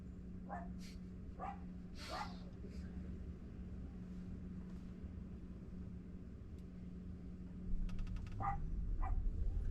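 Several sharp barks from a dog at a Waymo self-driving car, spaced irregularly and heard at a moderate distance over constant road hum, followed by a rising vehicle sound near the end; people talk in the background.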